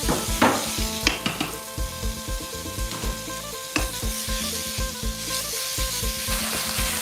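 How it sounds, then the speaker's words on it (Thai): Homemade chili paste and pork are stir-fried in a pan for a northern Thai curry, a steady close sizzle broken by the scrape and clink of a utensil against the pan, with no talking. "ผัดจนหอมแล้วก็ใส่หมูลงไปค่ะ"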